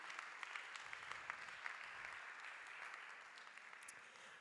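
Applause from an audience at a civil society conference on open infrastructure, steady dense clapping from many hands, even and sustained throughout, heard from a distance at low level.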